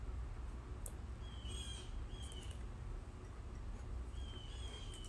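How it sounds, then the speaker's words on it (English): Faint birds chirp and call in short bursts over a steady low outdoor rumble, somewhat distant. "I hope you guys can hear the bird sounds"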